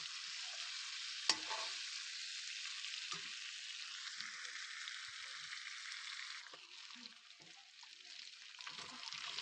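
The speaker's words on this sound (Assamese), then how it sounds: "বইল কৰি পেলাই জোখমতে নিমখ হালধি দি ভাজি লৈছোঁ, ভালকৈ ভাজি লৈছোঁ" Boiled pork frying in a pan with salt and turmeric, a steady close sizzle with intermittent scraping stir strokes and one sharp clink, fading slightly toward the end.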